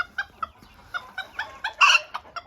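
Serama ornamental chickens cluck outdoors in a garden, a series of short close clucks and chirps in quick irregular succession, one louder squawk near the end, with no talking.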